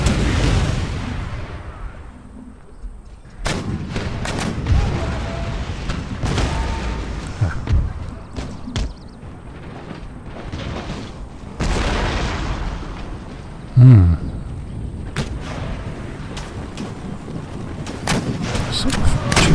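Artillery guns fire during a siege of Istanbul in Empire Total War, sounding as a string of repeated booms and bursts under game noise and someone talking, with one sharper, louder blast partway through.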